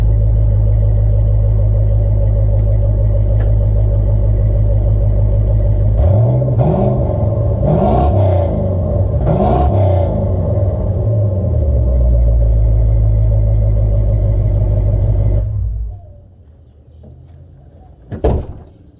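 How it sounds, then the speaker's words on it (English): A project vehicle's engine idles loudly and close, then rises in a few quick throttle blips around the middle before the rumble settles and cuts off near the end, followed by a short clunk. "go in there and click the throttle a little bit"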